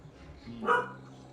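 A single nearby dog bark rings out sharply in the middle, standing alone over a quiet, faintly noisy indoor background.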